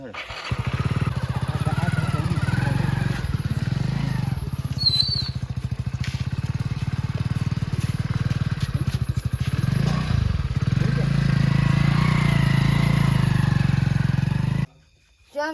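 A motorcycle engine rumbles loudly and steadily, revving with some rattling, then briefly cuts out near the end before picking up again.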